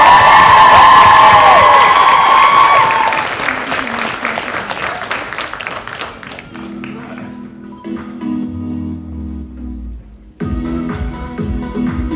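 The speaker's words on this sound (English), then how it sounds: "give her a big round of applause" A pageant audience at the 2022 International Junior Miss UK optional competitions claps loudly with some cheering, the dense applause gradually thinning and fading over several seconds.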